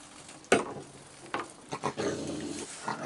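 A dog gives low, rough growls in a few short bursts at moderate distance, with rustling and faint outdoor background between them.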